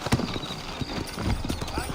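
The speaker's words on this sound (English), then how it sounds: "You ain't gonna find sturdier horses than these in all of New Ulster." Horse hooves clip-clop in an uneven walking rhythm close by in the Red Dead Redemption video game, while someone talks over them.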